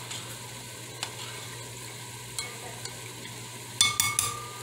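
Vegetables sautéing in butter in a pressure cooker for chicken noodle soup: a quiet, steady sizzle with a few soft stirring clinks and utensil taps near the end.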